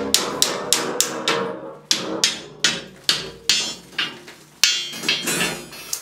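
A hammer strikes wood over and over while building a smokehouse for cured meat, loud and close, each sharp blow ringing briefly in a fairly steady rhythm of roughly three hits per second.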